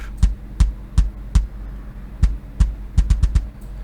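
A punchy, compressed kick drum from an RS Drums Fairview kit thumps alone in a steady pattern, with a quick cluster of hits near the end, each beat tight and booming.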